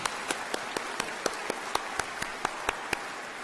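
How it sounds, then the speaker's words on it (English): A single pair of hands clapping in a steady, evenly spaced rhythm at a university ceremony, about a dozen crisp, moderately close claps over a faint room hush, no talking. "Let's have a round of applause."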